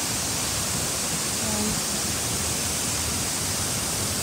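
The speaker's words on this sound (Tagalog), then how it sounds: "May falls na." Shiraito Falls in Nishihara Village, Kumamoto, pours down over rocks as a steady, broadband rushing roar that stays even and unbroken throughout, with no voices.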